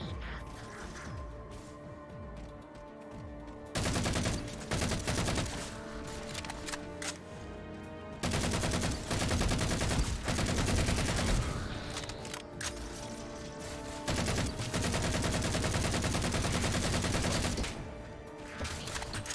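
Magnum pistol gunfire in the Halo 4 Prologue and Dawn missions on Xbox One, repeated loud shots and mechanical clanks over dense game music and effects, in bursts across the stretch.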